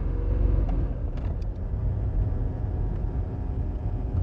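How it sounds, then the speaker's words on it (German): Steady low whir and rumble from a car's flywheel hybrid drive, in the Auto 2000 concept with a second clutch, running continuously at close range with no voices. "Deutlich zu hören, das Sirren der Schwungscheibe."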